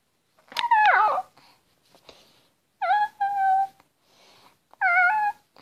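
A female house cat meows three times indoors in a home: a long, wavering first call followed by two shorter, steadier ones, each close and clear, separated by quiet gaps with no talking.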